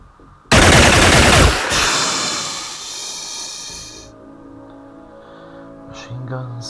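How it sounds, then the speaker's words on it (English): Machine gun fire in a video game opens as a loud, rapid burst that lasts about a second. A long hissing tail follows and fades under a quieter game background. "Machine guns are the best"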